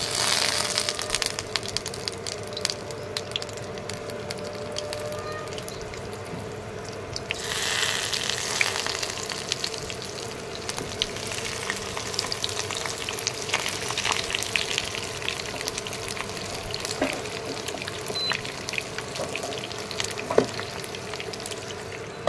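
Mustard oil sizzling and frying in an induction-friendly kadai during preparation of prawn paturi, a continuous crackling hiss with occasional sharper pops and stirring scrapes, close by and steady throughout.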